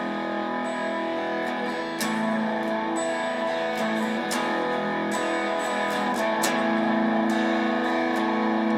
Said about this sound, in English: that's very low, very crunchy, very muddy sounding when you're using this much distortion